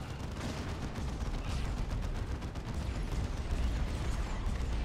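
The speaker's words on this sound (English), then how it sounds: "The Punisher cannon is doing some real damage." Punisher cannon fire in a Warhammer 40k strategy battle, a dense, continuous rattle of rapid gunfire and rumbling impacts, loud and unbroken throughout with no talk.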